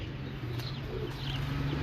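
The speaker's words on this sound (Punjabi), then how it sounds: "ਮੇਰਾ ਫੇਵਰਿਟ ਕਬੂਤਰ ਆ ਗਿਆ।" A pigeon coos faintly amid steady background hum, soft low calls drifting at a distance with no talk over them.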